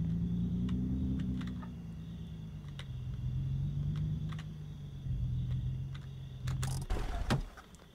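A car's engine hums at low idle and shifts pitch gently as it drives and slows in the video game Thief Simulator 2, with faint clicks along the way and a brief rattling burst near the end.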